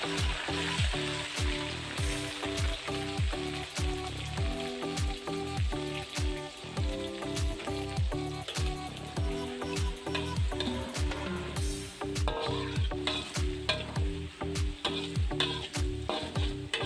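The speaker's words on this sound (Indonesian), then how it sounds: "Lanjut, kita goreng terinya." Small anchovies (teri) frying in oil in a pan, a steady crackling sizzle punctuated by repeated scraping stirs of a spatula, close and fairly loud throughout.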